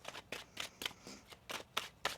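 A tarot card deck being shuffled by hand gives about eight crisp riffling bursts in a quick, uneven rhythm, close and fairly quiet.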